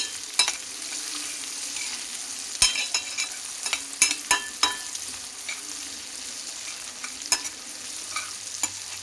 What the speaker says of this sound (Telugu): ఉల్లిపాయలు వేగనివ్వండి బాగా.